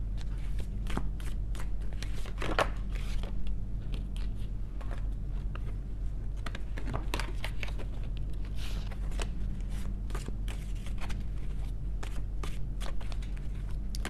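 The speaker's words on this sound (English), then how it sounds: "These cards are so hard to shuffle." Tarot cards are shuffled by hand in a run of soft papery riffles and slides, close and fairly quiet over a low steady hum, with no talking.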